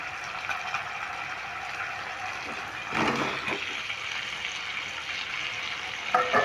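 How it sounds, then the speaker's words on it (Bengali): Pre-fried potatoes tipped into a sizzling spice masala for Kashmiri dum aloo, a close, steady frying hiss that surges briefly as the pieces go in, with a clatter near the end and no voices. "এবার আমি ভেজে রাখা আলুগুলো দিয়ে দেব"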